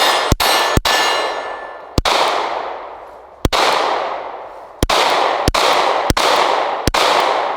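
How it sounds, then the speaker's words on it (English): Pistol shots from a compact Glock 43x or Sig P365 ring out at a range, eight loud sharp cracks at irregular intervals, each followed by a long decaying echo, with no talking. "send 15 rounds downrange"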